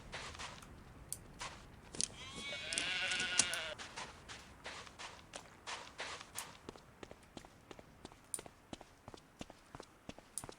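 Sheep bleating in the video game Clive Barker's Undying, a wavering cry over a steady run of footsteps and sharp clicks, close and moderately loud.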